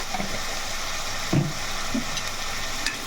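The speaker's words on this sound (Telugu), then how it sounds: "ఇప్పుడు ఇలా వేగి వేగుతుంది కదా" Mutton paaya with turmeric fries in a pan, giving a steady, close sizzle with a couple of brief soft knocks from stirring.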